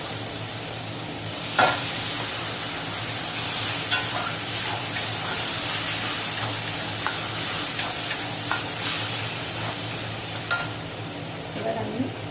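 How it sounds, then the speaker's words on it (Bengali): Onions sizzle in a pan as ginger garlic paste is added for Bengali eggplant kalia, with a steady frying hiss, occasional stirring clicks, and a faint voice in the background. "পেঁয়াজটা ভাজা হয়ে এসছে, এবার আমি আদা রসুনের পেস্টটা দিয়ে দিচ্ছি"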